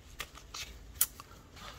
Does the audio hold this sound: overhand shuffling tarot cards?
yes